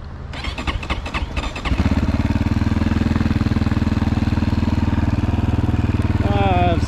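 A 2021 GPX FSE300R motorcycle engine cranks with a rapid clatter, then catches and settles into a loud, steady, close-up idle that keeps running, with a brief rising tone near the end.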